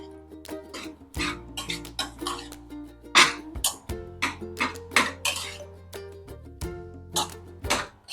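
A metal spoon stirs vegetable curry in a pan, giving repeated sharp clinks and scrapes in an uneven rhythm, close and clear, with no talking.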